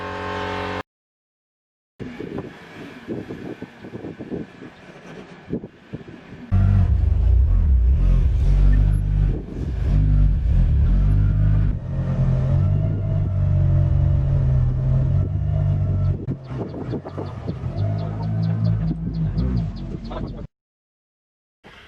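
Cars are moved around a workshop yard before outdoor spray painting: a low engine rumble starts up and idles near and loud for most of the stretch, swelling and easing, with brief lighter noises before it.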